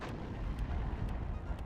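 Long-range missiles fire from a BMP3 in the WARNO war game as low, rumbling booming blasts that roll continuously for a moment, heavy and muffled, with faint periodic clicks above.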